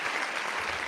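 A short burst of studio applause sound effect, a dense, bright crowd clapping heard alone at close, even level.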